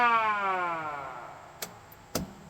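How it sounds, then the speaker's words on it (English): A Century Coronado boat's siren wails and winds down in a falling tone, fading away, followed by two sharp clicks. "And yes, it has a siren."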